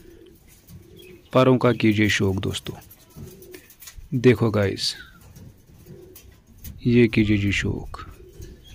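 Kamangar line pigeons coo in soft, low pulses in the background while someone talks over them at length in several loud stretches.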